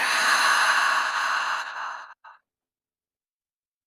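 A single deep exhale through the mouth during a guided neck and trapezius relaxation session, long and breathy, fading out after about two seconds into silence.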